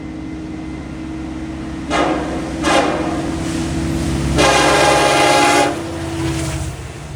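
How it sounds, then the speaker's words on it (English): Norfolk Southern freight NS 278, led by a low-ditchlight SD70ACe locomotive, sounds its horn in two short blasts, then one long loud blast and a fainter final note, all over a steady engine rumble. "Up next is NS 278 with a low ditchlight SD70 Ace in the lead."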